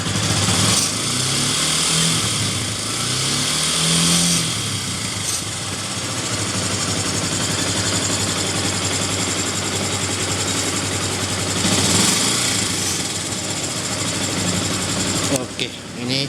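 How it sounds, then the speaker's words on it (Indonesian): A 2014 Yamaha Byson motorcycle idles close by with a steady engine and exhaust rumble, someone talking over it part of the time. "Suara knalpotnya ya."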